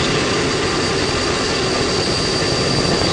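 Space Shuttle Atlantis main engines roar during launch, a steady, dense, unbroken rumble heard from inside the cockpit, loud and constant throughout.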